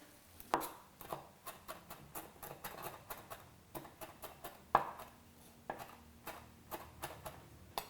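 Flat leaf parsley is chopped for chimichurri sauce, a knife tapping a cutting board in a steady run of quick, close, fairly soft strokes with short pauses between bursts.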